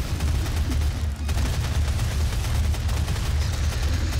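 Rapid, heavy gunfire rattles on in a DOOM game, a loud continuous barrage of shots and booms with a brief gap near the one-second mark before the firing resumes just as densely.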